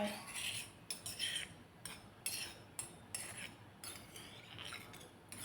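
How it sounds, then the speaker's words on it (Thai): A stone mortar being rinsed in a kitchen while home-grown amaranth curry with minced pork and egg tofu is made, with repeated light clinks and clatters of utensils and kitchenware, fairly quiet and close, with no talking. "ล้างครกล้างครก ล้างครกล้างครกล้างไป"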